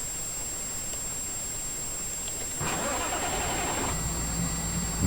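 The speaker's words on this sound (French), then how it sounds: "Alors ici, nous avons notre tracteur." Tractor engine in the farming game Farming Simulator 2013 starts up partway through, then settles into a steady mid-pitched idle rumble after a quiet hum.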